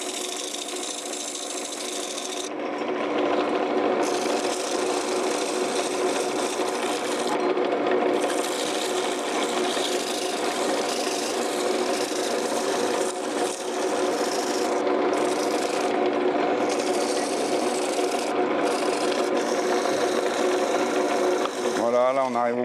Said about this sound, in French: Un petit coup de ponçage quand même pour les angles.